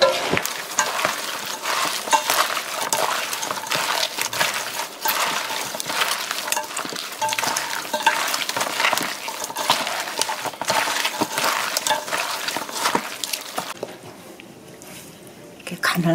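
Napa cabbage being tossed by hand with chili seasoning for summer kimchi makes wet, squishy mixing and rustling sounds in a dense continuous stream, loud and close, easing off near the end.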